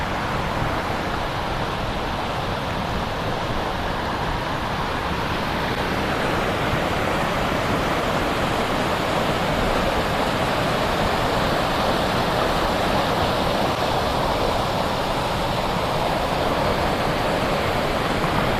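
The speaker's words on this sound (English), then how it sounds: "That is a proper waterfall." Steady, powerful rush of a waterfall, broadband and unbroken, loud and close for the whole stretch with no voices.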